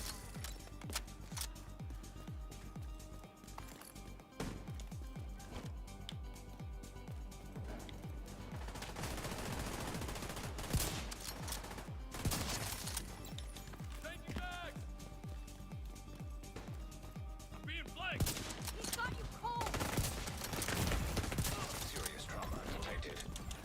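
Rapid gunfire in The Division 2 rattles continuously at close range, including a TAC 50 sniper rifle, dense bursts stacked over game effects and ongoing talk.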